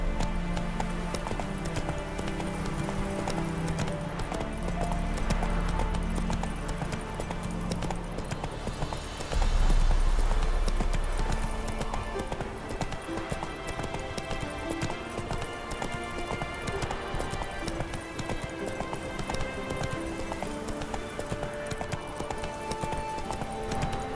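Steady clip-clop of horse hooves during a ride in The Witcher 3 game, a continuous galloping rhythm under music and ambient sound, with occasional faint voices.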